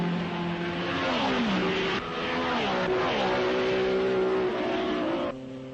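A 1961 Porsche Formula One racing car at the Spa Belgian Grand Prix, its engine note rising and falling steadily as it passes, loud and continuous with a few gear changes and no talk.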